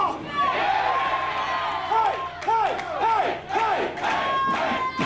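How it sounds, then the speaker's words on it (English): A wrestling crowd at a CHIKARA independent show chants and cheers in rhythmic bursts, loud and continuous, with repeated rising shouts in unison echoing through the venue. "The crowd here is firmly behind James Mason"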